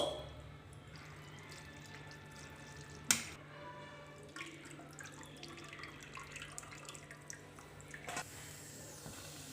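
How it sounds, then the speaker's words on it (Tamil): Water runs and splashes steadily as boiled egg noodles drain through a strainer, with a sharp clatter partway through and soft drips. "நூடுல்ஸ் வெந்துட்டு என்ன நம்ம இதை வடிகட்டிடலாம் வடிகட்டியாச்சு"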